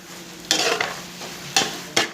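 Chicken green spaghetti being stirred slowly in a pan over low heat, a soft sizzle broken by several distinct scraping strokes of a spoon against the pan, close and clear with no talking.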